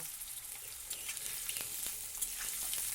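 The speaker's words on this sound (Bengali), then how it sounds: "এবার বেগুনগুলোকে আমি ওর মধ্যে দিয়ে দিলাম, দিয়ে একটু নাড়াচাড়া করে একটু লালচে করে ভেজে নেব।" Eggplant pieces sizzle steadily in hot oil as they are stirred, a continuous bright hiss with occasional spatters and soft scraping, no talking.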